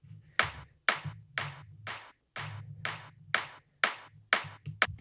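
Layered clap drum sample run through a compressor, played in a steady solo loop of about nine sharp, bright hits with tight decays, each backed by a low humming tone, heard close and alone.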